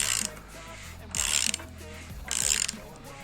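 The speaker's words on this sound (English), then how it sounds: "Now when you rotate the crank, everything should be rotating with it." A 4G63T engine crankshaft is turned by hand with the balance shaft belt fitted, producing three short bursts of mechanical clicking and whirring separated by quieter pauses, close and fairly soft.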